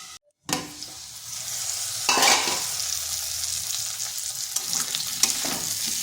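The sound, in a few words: frying and stirring spice paste in a pan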